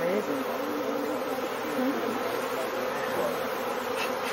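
A honeybee swarm being set down on the ground fills the air with a dense, steady buzzing hum, close and continuous throughout, with faint voices beneath it.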